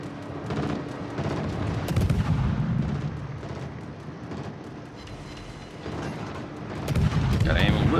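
Heavy warship guns fire in a World of Warships naval battle, with deep booming salvos and rumbling explosions, loud and close, under someone talking.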